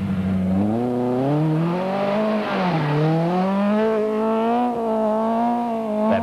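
A battered Volkswagen 16-valve GTI rally car is driven hard at racing pace, its engine note climbing and dipping steadily through revs, close and loud with no talk over it.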